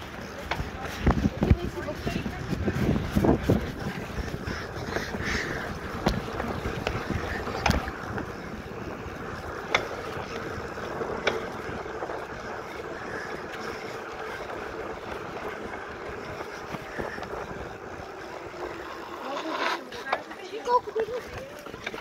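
A motorboat runs steadily across open water, its engine note rising and holding with a broad, rushing drone mixed with wind buffeting the microphone; people's voices break in now and then over the noise.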